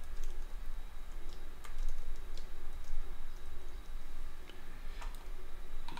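Fingers type a new password on a computer keyboard, producing scattered, light key clicks in small bursts over a steady low background hum, with no talking.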